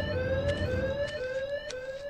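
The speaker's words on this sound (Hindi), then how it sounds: "front door hidden alarm" A hidden alarm on the front door in the Evil Nun horror video game blares as a loud, steady electronic siren with a wavering high tone and faint beeping pulses, continuous throughout and with no voices over it.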